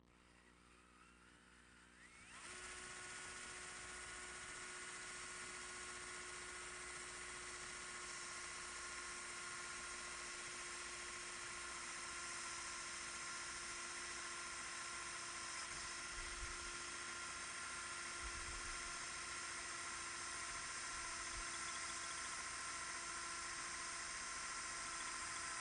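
A power drill with a sharp bit whines up after a quiet start and runs at a steady high pitch for a long stretch, driving through material, close and loud, with no speech.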